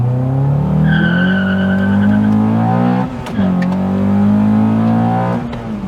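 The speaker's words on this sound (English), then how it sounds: "you saw there we've got a little bit of wheel spin" A manual car launches hard, its engine revving loud and close and climbing in pitch, with tire squeal from brief wheel spin; the revs dip at a gear change around midway, then build again and fade near the end.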